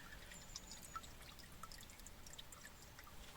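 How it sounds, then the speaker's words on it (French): Water drains out of a container at a carp fishing spot, a faint, steady trickle with scattered drips and small pours over a low background hiss. "On l'entend, hein, l'eau est en train de se vider."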